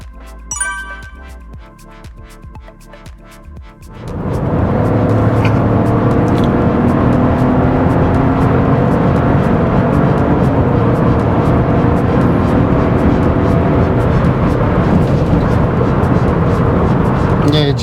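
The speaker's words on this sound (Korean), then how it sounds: "지금 제가 한번 많이 밟아봤어요. 밟아봤는데 이 엔진 되게 좋네요" Chevrolet Trax Crossover engine revving hard under full acceleration, a loud, sustained rising roar that starts abruptly after a few seconds of quieter cabin sound with chimes.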